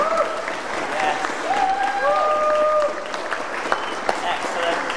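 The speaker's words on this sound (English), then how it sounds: "Big round of applause, just like the price I've got. Yes, that's it. Yes, go whooping." Church congregation at a Sunday morning service claps in a sustained round of applause with scattered whoops, loud and continuous before thinning toward the end.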